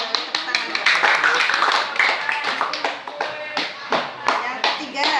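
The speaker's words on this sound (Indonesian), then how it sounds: "Oke, lalu tepuk tangan." Children in an Indonesian classroom clap their hands together, a burst of sharp, irregular claps close by over several seconds, with children's voices mixed in.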